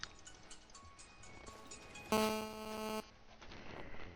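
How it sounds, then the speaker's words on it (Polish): A telephone gives one short electronic ring lasting about a second, bright and tonal, rising above a quiet background of faint clicks and hum. "telefon do mnie dzwoni"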